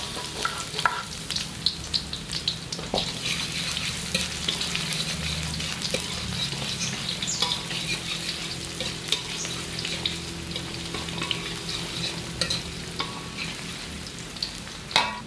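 Shallots and garlic stir-fry in hot oil for greens, a continuous close crackling sizzle with scattered pops and occasional soft scrapes of a stirring utensil, steady throughout with no voices.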